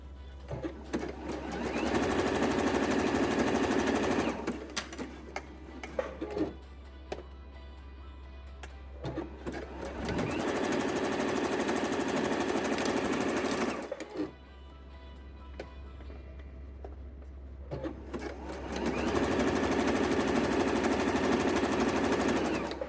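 A sewing machine stitching a swimsuit top, running in three long loud bursts of rapid mechanical clatter separated by quieter pauses with small handling clicks.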